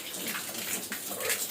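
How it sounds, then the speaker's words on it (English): A sow splashes and sloshes water at a pig watering system, a steady close gushing and splattering with uneven bursts and no voices. "Are you tired of playing with the water, huh?"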